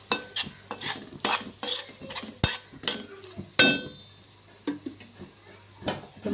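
A spoon stirs tomatoes with curry leaves and coriander in a pan for egg biryani, giving repeated scraping and clinking strokes with a soft sizzle and one sharp metallic ring partway through.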